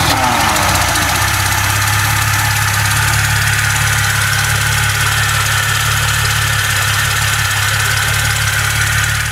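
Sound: Mercedes W113 280SL engine cold start and idling

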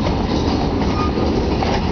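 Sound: Berkshire Hills train cars moving

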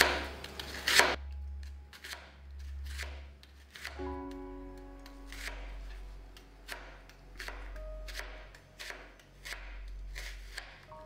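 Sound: slicing onions finely with a Damascus kitchen knife

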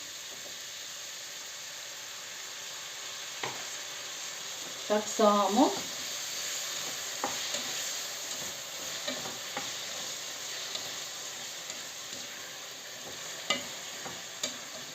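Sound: meat and tomato frying in pan

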